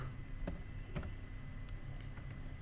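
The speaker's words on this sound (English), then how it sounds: "So for this you need to type workbook" Typing on a computer keyboard while writing Excel VBA code: a handful of distinct, close keystroke clicks, two sharper taps early then lighter scattered presses over a faint steady background hum.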